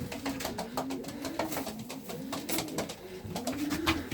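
Young racing pigeons in their flight loft coo continuously up close, with overlapping throaty calls, soft flutters and scuffling over a busy, constant background.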